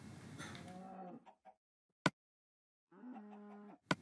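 Two distinct low moos from Minecraft cows, one at the start and one near the end, separated by a quiet gap with a couple of sharp clicks, no talking.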